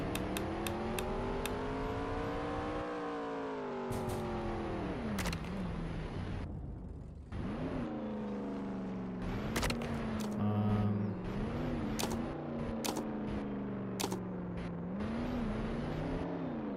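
A video game car, the MCO-36, revs and accelerates with a steady engine whine that rises and falls through gear shifts, loud and continuous with a few sharp clicks layered on top.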